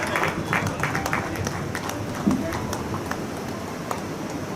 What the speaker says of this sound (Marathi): कृपया जोरदार टाळ्या त्यांच्यासाठी.